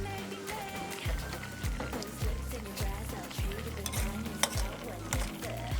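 Tempe and chicken stirred in a pot of simmering, bubbling bacem spice broth, with steady bubbling and a repeated rhythmic scraping and clinking of the stirring utensil against the pot.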